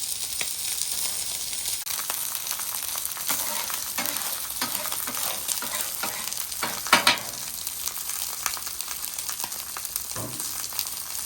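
Fresh carrots fry on a hibachi griddle with a bright, constant sizzle, broken by occasional scraping and stirring sounds from a spatula, heard close up with no talk.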